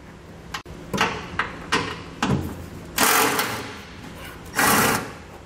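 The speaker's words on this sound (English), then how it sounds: "there's a nut we're going to remove with a 12 millimeter socket" A socket wrench works a 12 millimeter nut off the frame of a 2020 Toyota Tundra, giving close, loud bursts of mechanical whirring and ratcheting, several short pulses followed by two longer runs.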